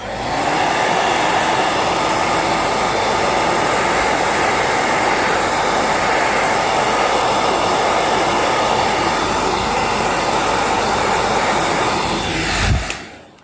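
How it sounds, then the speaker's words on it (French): A hair dryer blows with a steady, loud whooshing hum, close up and unbroken, then cuts off abruptly near the end. "Je vais essayer de vous couper le son du sèche-cheveux."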